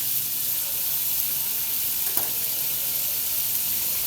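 Butter heating in a hot pan, a steady bright sizzle that holds throughout with no pauses, and a faint tick partway through.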